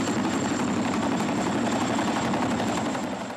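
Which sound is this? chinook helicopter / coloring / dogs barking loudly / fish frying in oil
chinook helicopter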